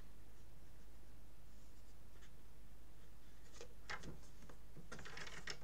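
Paper being folded for a baby scrapbook album page, creased at a trimmer's scoring line: soft crisp rustles and a few sharp creasing scrapes toward the end, faint and close, with no talk.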